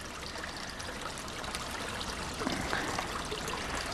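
A babbling brook running alongside a route from Kettering through Wellingborough toward the River Nene, a steady soft trickling and gurgling of flowing water with no breaks, moderately quiet and heard alone.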